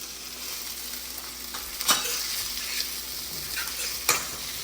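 Cumin seeds sizzle and crackle in hot oil with chili, ginger and garlic, a steady hiss broken by a couple of sharper pops and the scrape of stirring.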